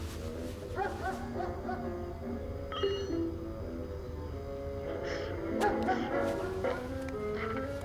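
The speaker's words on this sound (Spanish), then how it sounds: "Qué perro de mierda. No aguanto más." A dog yips and barks repeatedly at a distance, partly buried under a continuous busy background and overlapping voices, in a scene from a 2016 Argentine feature film.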